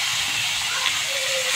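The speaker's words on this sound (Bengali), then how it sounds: "তারপরে আমি কড়াইটার মধ্যে ছেড়ে দিলাম সবজিগুলো" Vegetables hitting hot oil in a wok, giving a steady, loud, close sizzling hiss that fills the whole moment without a break.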